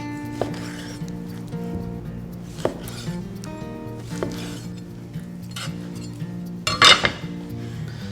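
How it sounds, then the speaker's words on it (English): A cleaver chops through pork ribs on a cutting board, separating them into individual ribs: several sharp, spaced thwacks over background music, with a louder clattering strike near the end. "I'm just gonna cut these into individual ribs. Going in between the bones, I'm using a cleaver"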